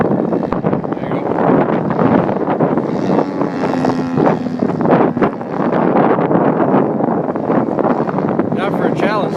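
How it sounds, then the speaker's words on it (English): Gusty wind buffeting the microphone on a windy day at a model aircraft flying session, loud rumbling bursts with people talking over it. "you see the wind blowing around?"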